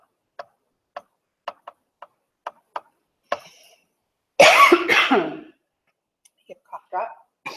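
A sharp series of evenly spaced clicks, then a loud, harsh cough close to the microphone, followed by a few faint mouth sounds.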